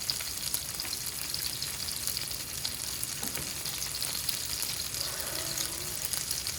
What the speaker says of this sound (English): All right, we got the salmon searing away.